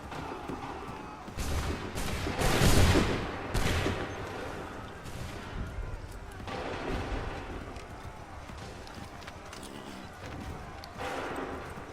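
A ragged volley of musket fire crackles out in staggered bursts across an open field, the loudest cluster early and scattered shots following.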